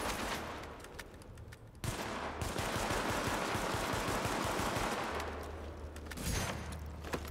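Rapid automatic gunfire in The Division pounds against an enemy's power shield, loud sustained bursts with a brief break, over a low droning game background.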